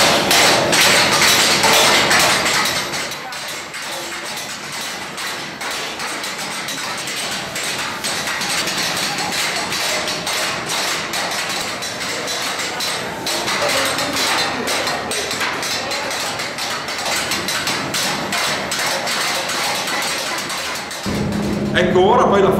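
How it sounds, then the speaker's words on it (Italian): Workers hand-hammer raw bronze cymbals in the Istanbul Agop workshop, many overlapping metallic hammer strikes in a dense ringing clatter, with voices talking over the din. "Guardate quanti uomini martellano questi materiali."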